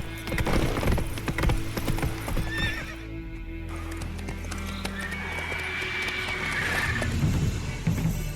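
A horse in The Witcher 3 video game, with close clip-clopping hooves and a drawn-out neigh and whinny partway through, set over a low rumbling game ambience.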